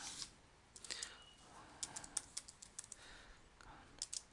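Someone types code on a computer keyboard, producing irregular bursts of close, crisp key clicks with short pauses between them, and there is no speech.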